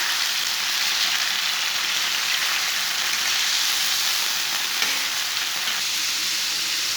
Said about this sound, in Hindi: चिकन डाल के 1 मिनट तक भून लेंगे।